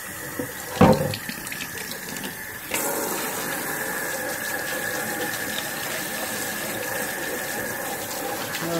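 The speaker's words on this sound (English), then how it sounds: "I'm just going to rinse it off." Tap water runs into a sink as a plastic car headlight is rinsed under it: a short splash, then a steady, moderate gush that continues to the end.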